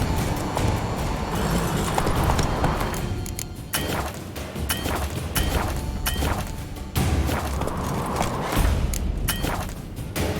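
Hoofbeats of Roach, the horse in The Witcher 3: Wild Hunt, a steady clip-clop running under dense game ambience with occasional heavier thuds and swishes throughout.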